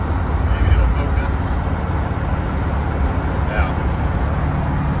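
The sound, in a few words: car driving down the highway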